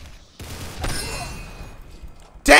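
A gun fires in a video game, giving a few sharp shots: one burst at the start, another after a pause, and a loud blast near the end, with quiet gaps between.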